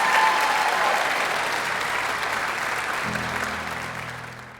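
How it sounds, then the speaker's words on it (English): An audience at a youth sports awards ceremony gives steady, full applause. The clapping is dense and fairly loud and fades gradually toward the end, with faint low tones entering partway through. "Everybody, please give a big round of applause to Tian Mei"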